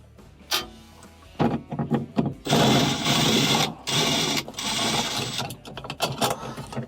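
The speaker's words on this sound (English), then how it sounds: "we have two 1/4" screws in the top that have to be taken out" A screwdriver backs out 1/4-inch screws from the top of a refrigerator LED lamp assembly, giving bursts of close rattling, grinding mechanical noise separated by short pauses and clicks, with someone talking briefly.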